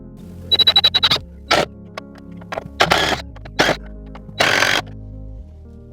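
Screws being driven into a wooden pallet fence with a power driver: a stuttering run of quick pulses, then several separate short whirring bursts with pauses between, close and fairly loud.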